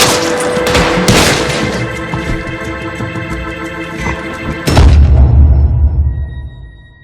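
Dense gunfire in Red Dead Redemption, version one, in Saint Denis: loud, overlapping shots crackle without a break, a heavy boom hits near the end, and the noise then fades out.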